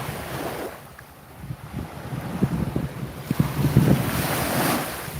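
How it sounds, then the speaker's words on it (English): Ocean surf washes steadily at a beach on the Phi Phi Islands, Thailand, with rolling waves and gusty wind buffeting the microphone, growing louder toward the end; no one speaks over it. "I know you can hear the ocean"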